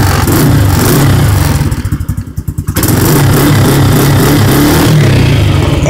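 Warmed-up ATV engine running close and loud with a rough, throbbing idle, easing off briefly in the middle before revving back up to a steady drone.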